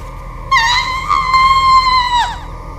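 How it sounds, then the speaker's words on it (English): A monster in a video game lets out a loud, sustained, tonal scream that wavers and bends before dropping away at the end, set over a low background hum. "Suddenly, the monster screamed, darted away, and quickly disappeared at the turn."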